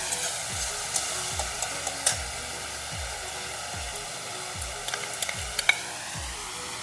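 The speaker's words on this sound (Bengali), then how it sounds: "টমেটো বাটা আমি আর একটু ভালো করে কষিয়ে নিচ্ছি।" Ground tomato paste sautéed in a pan for a spicy brinjal dish, with a soft sizzle under regular, rhythmic scraping strokes of a spatula about every half second, close and moderately loud, no voices.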